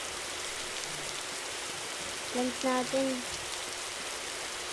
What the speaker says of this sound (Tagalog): Ulan pa ba? Oo, ulan pa.